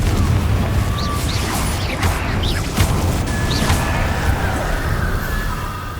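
The Confringo explosive spell cast in Hogwarts Legacy, loud, dense rumbling blasts and crackling bursts with whooshing streaks layered together in a continuous chaotic battle mix.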